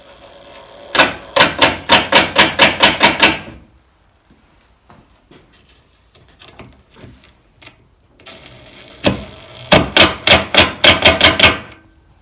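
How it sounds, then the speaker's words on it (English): A power drill or driver works into wood in two bursts of rapid, loud, rattling clicks, each about two seconds long, separated by a quiet stretch of faint handling noises. "Now what we need to do is drill holes and put the screws in to hold it down."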